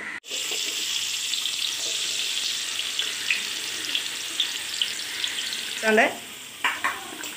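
Chopped onions sautéing in a pan for a Kerala-style fish biryani, a continuous close sizzle with occasional stirring scrapes and clinks toward the end.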